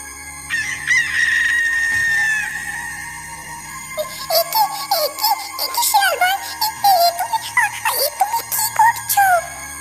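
A cartoon rooster gives a long crow, followed by a rapid run of chicken clucks and squawks, loud and close.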